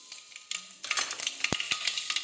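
Mustard seeds and spices hit hot oil in a pan, crackling and sizzling in quick sharp pops that grow denser, close and fairly loud, with a few stirring clinks and no voices.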